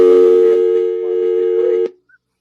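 A telephone line on a new phone system sounds a loud, steady tone during an attempt to conference a call, cutting off abruptly, followed by a faint short beep.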